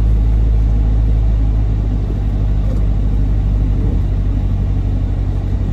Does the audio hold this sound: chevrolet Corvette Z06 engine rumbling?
yes